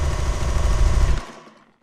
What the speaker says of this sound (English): Her sewing machine.